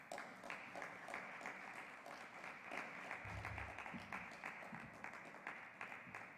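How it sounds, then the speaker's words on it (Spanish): Audience applause at a poetry gathering, steady clapping from a modest crowd that carries on evenly for several seconds, moderately close, with a brief low thump partway through. "Un fuerte aplauso, por favor"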